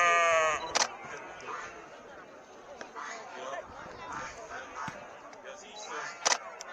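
Sheep bleat at a livestock show, with Estonian dark-headed sheep present; a loud bleat opens the scene and shorter calls follow, while someone speaks over the barn chatter.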